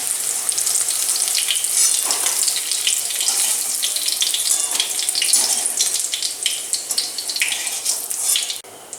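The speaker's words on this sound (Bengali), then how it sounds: "এবার এই গরম তেলে আমি ইলিশ মাছটা হালকা ফ্রাই করে নেব" Hilsa fish frying in hot oil, a loud, steady crackling sizzle with dense spitting pops that runs without pause from start to finish.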